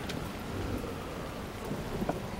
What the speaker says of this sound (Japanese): すごい嵐ですね。